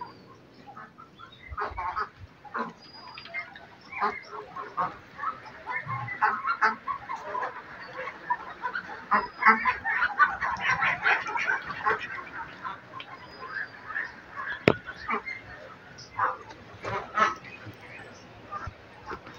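A flock of Khaki Campbell ducks on a duck farm honks and quacks in a dense, continuous chorus at moderate volume, with individual calls overlapping throughout.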